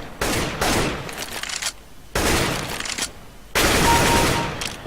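Gunfire in CS:GO rings out as three loud, separate bursts of rapid shots with short silent gaps between them, close and dominant.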